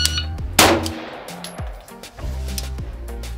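A single sharp report from a Daniel Defense DDM4V7 rifle on a target range, loud and close, followed by ringing metallic tones and a fading tail.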